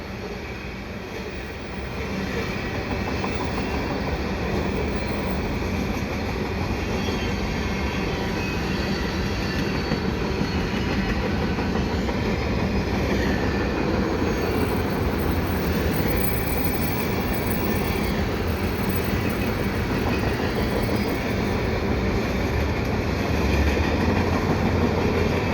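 Two mixed freight trains, one CN and one CPKC, pass each other at a St. John's Boulevard overpass, a steady loud rumble of rolling cars with wheel squeal and rhythmic clatter that holds throughout.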